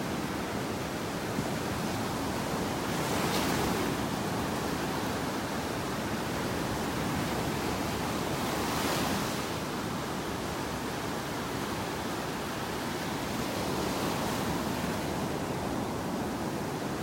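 Ocean waves break over a sandbar on a beach in North Naples, Florida, a steady broad roar of surf with gentle swells every few seconds, continuous and fairly distant.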